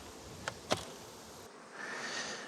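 Honey bees hum softly inside a hive box, a faint steady drone broken by two brief clicks, with the buzzing swelling slightly toward the end.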